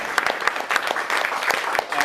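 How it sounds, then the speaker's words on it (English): An audience applauds a volunteer at a magic show, dense clapping from a crowd that is loud and fairly close, lasting about two seconds without a break. "Round of applause for Mike."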